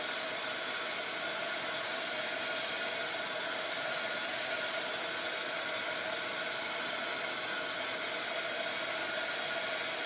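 A heat gun blows over a stamped card image, melting charcoal gold embossing: a steady, close whooshing roar like a hair dryer that holds an even level from start to finish.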